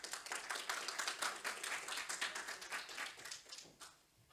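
An audience at a sustainable-finance masterclass applauds to welcome a speaker on stage, a quick run of many hands clapping in a hall that swells and then tapers off, with no voices over it.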